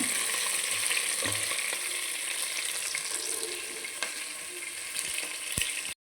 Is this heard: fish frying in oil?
yes